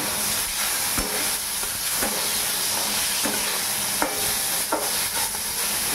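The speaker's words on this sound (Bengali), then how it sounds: "এবারে নাড়িয়ে চাড়িয়ে" A spoon steadily stirs boiled mango chutney seasoned with salt and turmeric in a pan, with regular scraping strokes over a constant loud hiss of steam and sizzle, up close with no voices.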